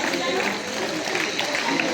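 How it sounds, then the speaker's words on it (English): Dense, steady applause from a school audience cheering newly elected class captains and vice captains at a certificate ceremony, continuous clapping filling the whole stretch. "Give them a big round of applause."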